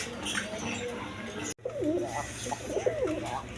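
A pair of shirting pigeons, a blackless shirting hen and a blue shirting cock, coo near at hand in repeated low, warbling phrases over a steady background hum, broken by one short gap.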